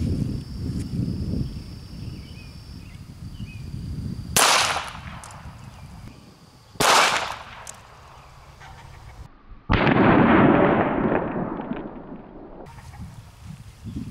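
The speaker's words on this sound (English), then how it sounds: "first I'm going to shoot the bottle on the left, the 22 long rifle." A .22 Long Rifle shot at a bottle outdoors, a sharp loud crack that stands out against quiet background noise, followed by further sharp bangs and a long rustling burst.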